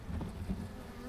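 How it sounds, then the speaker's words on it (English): Honey bees buzzing around an opened hive, a dense close drone filling the air without pause. "They're starting to buzz me."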